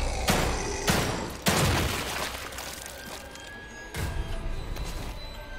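Gunfire from the video game The Evil Within 2, several loud booming shots with sharp attacks and long reverberant tails, spaced irregularly over a dense game soundscape without talk.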